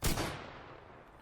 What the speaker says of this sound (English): Yeah, I'm going to shoot you right in the head.